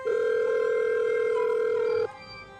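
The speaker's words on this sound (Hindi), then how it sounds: "कॉल जाती तो है मगर रिसीव नहीं होती।" A phone call rings out unanswered: one steady, loud electronic ringback tone holds for about two seconds, then cuts off, leaving faint background noise.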